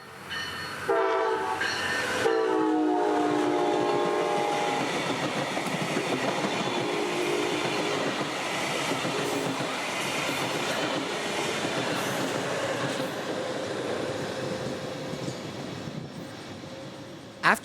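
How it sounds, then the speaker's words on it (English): A passenger train rolls through Fort Pierce, South Florida, close and loud, sounding its horn in long tones near the start before the steady rumble and rattle of the cars continues alone to the end. "here comes BLF 723, rolling through"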